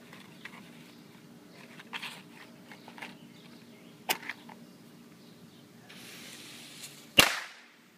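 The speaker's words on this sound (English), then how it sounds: "that was the firecracker" After a few quiet ticks and a brief hiss as a firecracker is lit with matches, a single sharp firecracker bang cracks out loudly near the end.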